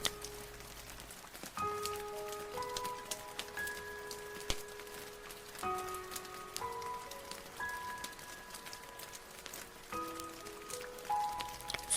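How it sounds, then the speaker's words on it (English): Gentle rain falling outside on a rainy night, a steady soft patter heard behind calm synthesized tones and a soft musical lullaby throughout, with no talking. "listen to the gentle rain whispering a soothing lullaby"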